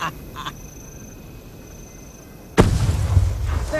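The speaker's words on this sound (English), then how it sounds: "That's not thunder, you whimpering little worms. It's cannon fire. Blood Legion cannon fire!" Booming cannon fire from the Blood Legion in the Guild Wars 2 video game, one loud heavy blast that hits suddenly and rumbles on after a quieter stretch of ambient game sound.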